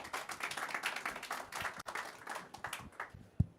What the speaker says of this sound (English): invite you to say a round of applause to Dr.